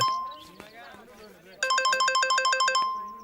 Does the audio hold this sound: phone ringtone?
yes